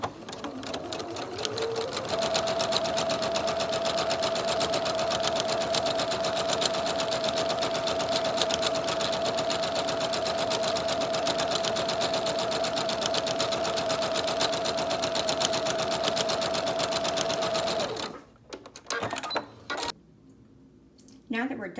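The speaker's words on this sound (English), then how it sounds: "Now that we're done sewing the filter pocket" Sewing machine stitching the filter pocket of a fabric face mask, one long loud run of fast even stitching up close, stopping near the end and followed by a few clicks and handling sounds.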